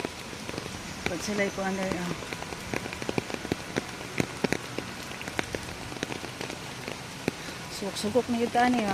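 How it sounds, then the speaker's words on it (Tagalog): Steady rain patters on a hard surface with scattered heavier drips, while people talk quietly over it. "Ulan gid siya as in."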